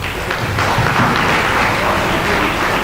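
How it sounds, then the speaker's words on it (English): Audience applause for a volunteer at a sustainability conference panel, a loud, continuous roar of clapping that fills the whole stretch evenly. "Have a round of applause for him"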